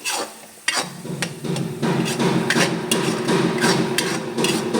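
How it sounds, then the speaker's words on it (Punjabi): Cream being stirred into a vegetable curry in a pan: a spoon scrapes and knocks against the pan in repeated sharp clacks over a steady simmering sizzle, close and without talk. "ਇਹਨੂੰ ਅੱਛੀ ਤਰ੍ਹਾਂ ਮਿਕਸ ਕਰ ਦੇਣਾ ਮਲਾਈ ਨੂੰ"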